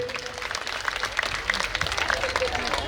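An audience at a Khel Paithani game show on stage claps in a busy, uneven patter, moderately loud with sharper individual claps standing out, while an announcer's amplified voice carries over it.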